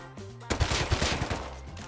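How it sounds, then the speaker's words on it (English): MP5 submachine gun fire in the video game Rust, a loud sudden burst of rapid shots lasting about a second and a half, preceded by a brief quiet tonal background. "Lasagna, thanks for the fucking MP5, you brick. Hmm, missed every shot"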